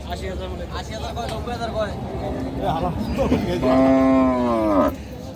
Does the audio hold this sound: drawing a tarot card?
no